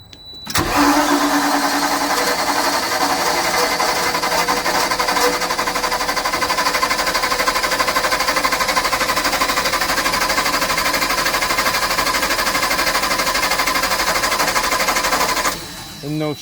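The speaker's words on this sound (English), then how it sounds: "I don't like the sound of the cranking." A Kohler LP-fueled emergency generator engine cranks steadily for about fifteen seconds without catching, a loud, continuous, even mechanical churn that cuts off near the end.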